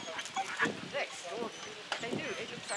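A pet dog barks in short, sharp bursts close by outdoors, mixed with people talking and other animal sounds in the background.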